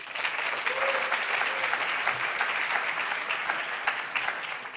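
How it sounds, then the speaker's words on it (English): Conference audience applauding at a PyData London lightning-talk session, dense sustained clapping from a large room that stays loud for nearly five seconds. "Last round of applause."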